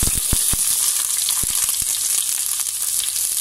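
Sliced onion and a small piece of capsicum frying in hot oil for an Indo-Chinese dragon chicken masala, giving a loud, steady close sizzle with a few soft clicks early on.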